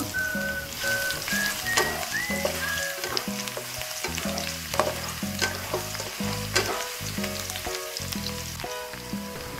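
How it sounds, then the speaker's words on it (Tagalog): Garlic fries in hot oil in a pan, a loud steady sizzle with spatula stirring and clinks running through, while background music plays quietly underneath. "Sa mainit na kawali, maglagay ng mantika. Isunod ang bawang."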